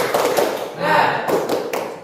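A group performs the rhythmic 'tepuk semangat' cheer clap during a school coaching session: quick patterned bursts of hand claps, close and loud, mixed with voices chanting along.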